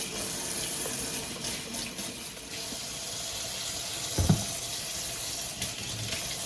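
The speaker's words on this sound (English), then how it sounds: "Give everything a good clean with the Dawn dish soap and a good rinse." Pet water fountain parts rinsed under a running kitchen tap after washing with dish soap, a steady close splashing stream with a brief louder knock or clatter partway through, no talking.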